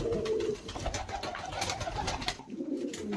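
Punjabi Malwai pigeons for sale in Bahalgarh, Sonipat, cooing at night, with a low throaty coo near the start and another toward the end over steady background noise.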